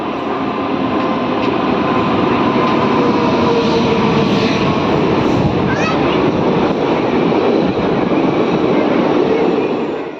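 A passenger train runs from Bardhaman toward Bolpur, heard from inside: a loud, continuous rumble and rattle of the carriage with a steady roar. A faint horn-like tone rises briefly midway, and there is no clear speech.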